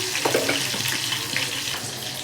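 Green chilli drops into hot oil already crackling with cumin seeds, giving a steady close sizzle with scattered pops and spits throughout.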